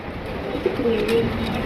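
A red checker racing pigeon gives a brief, low, soft coo close by, a single murmuring call over quiet background.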